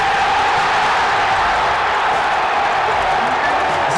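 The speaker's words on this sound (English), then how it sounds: "Isn't that crowd insane? It's like you're there." Stadium crowd at a Michigan college football game roaring after a touchdown, a loud continuous wash of cheering voices with no breaks, distant and massed, filling the whole moment.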